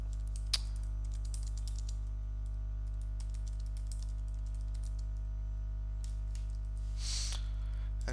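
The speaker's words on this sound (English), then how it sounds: "So let us type something." Quick, light bursts of typing on a computer keyboard at a desk, soft tapping clusters separated by pauses, faint against a low steady electrical hum, with no talking.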